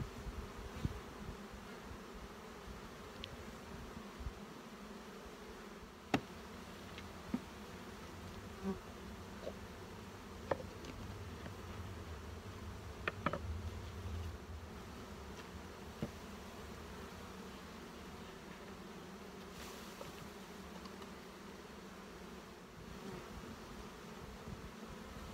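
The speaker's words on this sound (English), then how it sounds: "I'm going to take a scoop of bees like that." Honeybees buzzing at an open hive during spring inspection, a faint, continuous drone with occasional individual bees passing close and small clicks of handling.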